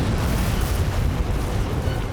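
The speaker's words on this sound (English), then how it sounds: "You can hear cracks, explosions." Volcanic eruption explosions: a sustained, heavy low rumble with booming surges, loud and unbroken, with no voices present.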